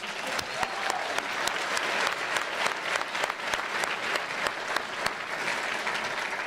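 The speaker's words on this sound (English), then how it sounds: "So a round of applause for the security" Audience at a university campus speaking event applauding the security staff, sustained crowd clapping with distinct sharp claps standing out, steady and full for several seconds.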